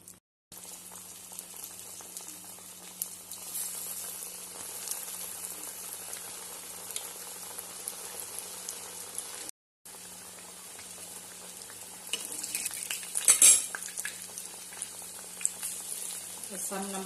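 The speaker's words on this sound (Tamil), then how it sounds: "இப்போ இதை நம்ம எண்ணெயில் போட்டு வறுத்துருவோம்." Masal vadai, flattened chana dal patties, fry in hot oil with a steady, soft bubbling sizzle that runs throughout, broken by one brief gap and a busier crackling stretch near the end.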